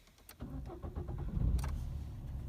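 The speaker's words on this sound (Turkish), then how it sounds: "Bir de aracı çalıştıralım şimdi." An Opel Astra sedan's engine is cranked and fires up, with a short starter whir that builds into a settling idle, heard close from inside the car.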